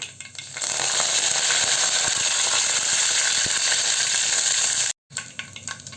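Mustard seeds pop in hot oil with cumin and curry leaves for a spinach keerai kadayal, giving a steady close sizzle with scattered sharp crackles and a brief break near the end.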